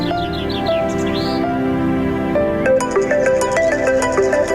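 A phone ringtone plays a bright chirping, bird-like melody with repeated tonal notes, loud and continuous, with no talk over it.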